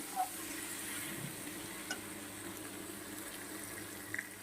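Drumsticks and potatoes are sautéed with small tangra fish in a pan, giving a steady, even sizzle throughout with a few faint, brief clicks of a spatula.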